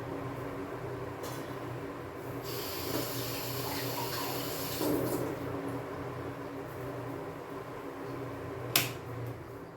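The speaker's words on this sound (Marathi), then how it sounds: "आणि याच्यात थोडंसं आपण पाणी पण टाकूया." Water pours into a mixer jar of jaggery raw mango panna mix as a quiet, steady trickle, with a sharp click near the end.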